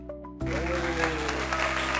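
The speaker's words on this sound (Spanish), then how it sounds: "vamos a recibirla con un aplauso a Catalina Arango" Applause from a podcast audience greeting a guest breaks out suddenly after a brief quiet moment and holds as a steady, dense wash of clapping.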